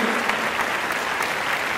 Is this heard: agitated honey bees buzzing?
no